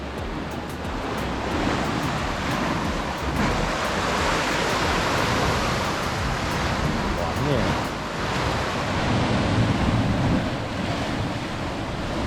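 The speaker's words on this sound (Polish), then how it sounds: "jeżeli chodzi o morze, o fale," Sea waves wash over rocks on the Mallorca coast in a continuous, loud roar of surf, with gusting wind buffeting the microphone.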